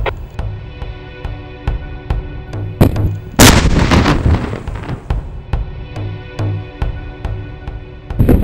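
An avalanche airbag backpack test charge blows up outdoors in a single loud, close blast midway through, followed by a decaying rumble over steady background noise and faint clicks.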